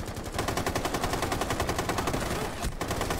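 Rapid automatic gunfire from a video game rattles in dense continuous bursts, loud and close, with a brief gap near the end.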